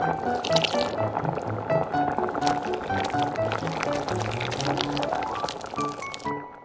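Milk and cheese sauce poured into a tiny pan for a miniature octopus and cheese buldak noodle dish, heard as close trickling, dripping liquid over soft clinks and a faint tonal background.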